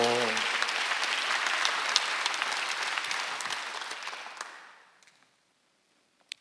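Church congregation applauding loudly during a Sunday worship service, a dense, sustained burst of clapping that fades out completely, followed by a single faint knock after the silence.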